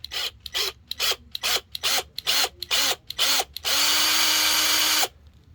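A power drill whirs in a string of short bursts, about ten quick pulses, then runs in one long steady grind before cutting off; close and loud.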